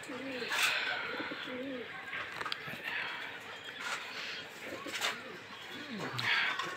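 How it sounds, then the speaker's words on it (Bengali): High flyer pigeons in a loft giving repeated soft, rolling coos at close range, several birds overlapping over a busy, rustling background. "এই যে নতুন লফটে অনেক কবুতর আছে, এখানে দেখতে পারতেছেন"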